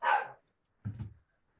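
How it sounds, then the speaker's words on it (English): A dog barks twice in the background, a sharp bark followed about half a second later by a lower, rougher one, moderately faint and without talk. "Forgive the dog barking in the background."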